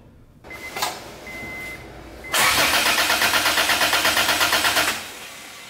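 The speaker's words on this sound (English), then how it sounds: "to start the car, but it didn't want to start" Car engine cranking at a race track as it struggles to start, a brief chirp and pause followed by a loud, steady rhythmic churning of the starter for about three seconds that stops without the engine catching.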